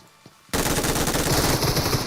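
Rapid automatic gunfire in the PUBG Mobile video game during a Halloween mode match, a loud sustained burst that erupts suddenly after a quiet moment and continues unbroken.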